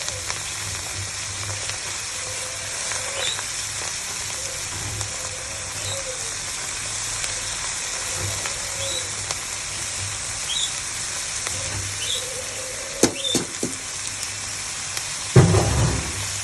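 Raw leafy greens hit a pan of oil with onions browned with turmeric and salt, producing a steady, dense, rain-like sizzle that continues throughout, with a few faint scrapes and a louder clatter near the end.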